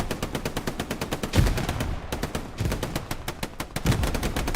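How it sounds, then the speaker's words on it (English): Machine gun fire in the Hell Let Loose video game, a loud, rapid stream of rounds fired close by in rhythmic bursts with only brief gaps between. "MG now with Moose up there in the building. Hammering down the point."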